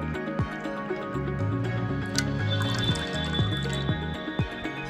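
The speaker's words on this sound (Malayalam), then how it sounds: "ഇനി ഒരു പാനിൽ കുറച്ച് നെയ്യ് ഒഴിച്ച് അതിലേക്ക് ശർക്കര പാനി ഒഴിക്കുകയാണ്" Jaggery syrup is poured into a pan with ghee, giving soft liquid dripping and squishing with faint metallic clinks from the cookware, quiet and close with no talking.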